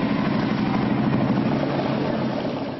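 Motorcycles of volunteers delivering Christmas meals to homebound seniors in Kalihi roar in a dense, loud, steady engine rumble that slowly begins to fade at the end.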